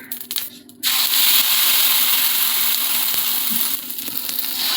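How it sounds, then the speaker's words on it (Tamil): Dosa batter hitting a hot pan, making a sudden loud, steady broadband sizzle that starts about a second in and keeps hissing evenly to the end, with no voices. "இப்போ காஞ்ச உடனே மாவு ஊற்றிக்கலாங்க"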